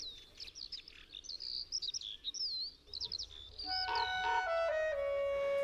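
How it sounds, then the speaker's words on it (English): Skylarks singing under a sunny sky over open ground near a primeval forest, a rapid run of high warbling chirps and trills, clear and fairly close, with a few sustained whistled notes near the end. "one can hear the vibrant chirping of skylarks."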